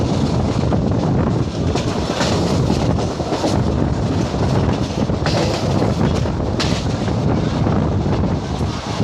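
Train running on track between Sarwari and Kodi on the Parbhani-Jalna line, a loud, dense, continuous rumble and rattle with heavy wind buffeting throughout, steady and unbroken from start to end.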